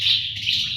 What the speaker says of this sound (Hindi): हमारे यहाँ थोड़ी चिड़ियाँ बहुत हैं जो चहचहा रही हैं